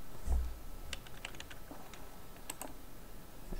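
A Gmail address is typed on a computer keyboard, a quiet run of scattered key taps with irregular gaps, fairly close and alone.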